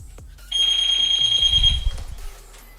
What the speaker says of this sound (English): It has got an alarm on this, so I'll turn this off before I turn the ignition on.